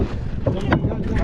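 A fishing boat out jigging at sea off Quriyat runs with wind buffeting the microphone, a rough rushing noise broken by short gusty bursts.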